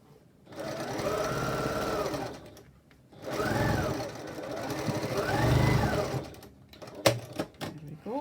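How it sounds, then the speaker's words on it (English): Sewing machine stitching the underside of a fabric face mask, with three sustained whirring runs separated by short pauses, then a few sharp clicks near the end. "then you stitch all the way on the underside"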